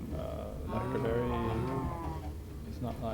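Cows lowing in Minecraft, a drawn-out, tonal bovine moo rising and falling over a couple of seconds against a steady low background.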